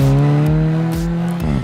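An Alfa Romeo 4C sports car's engine drones loudly up close under hard acceleration, its exhaust snarling with short crackling pops and a quick gear change near the end.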